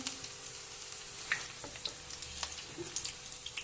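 Chicken tikka snacks fry in a pan of oil, a steady close sizzle with scattered crackling pops running throughout, fairly quiet and with no talking.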